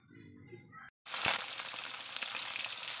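After a brief gap, a loud crackling sizzle bursts in as snakehead fish hits hot oil in a pan and keeps frying steadily.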